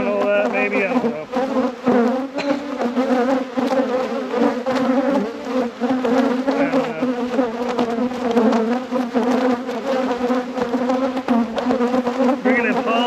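Honeybees swarm and buzz loudly and continuously around an opened hive during an after-winter deep inspection, a dense droning hum close by with wings whirring past.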